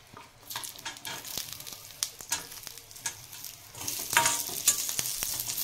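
Ginger, garlic and grated coconut roasting in an iron kadai for a chana masala curry, giving a steady sizzle with scattered scraping strokes of a spoon, louder near the end.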